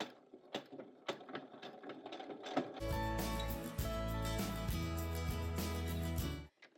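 Sewing machine back stitching the edge of a Christmas hot pad, a steady mechanical whir that starts after a few faint clicks and handling sounds and runs for several seconds before stopping abruptly.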